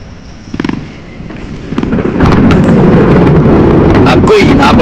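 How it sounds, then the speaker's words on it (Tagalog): Thunder at the coast by a boat landing between Atimonan and Alabat, Quezon, rumbling heavy and loud as a rising roar mixed with wind buffeting on the microphone, with people talking over it. "isang matinding kulog ang sumalubong"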